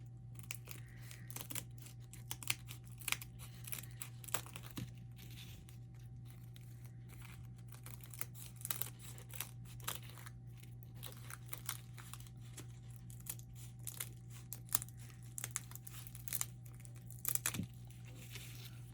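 Paper pieces for a scarecrow gnome craft are cut out, with soft crinkles, rustles and small snips scattered irregularly throughout, faint against a steady low hum.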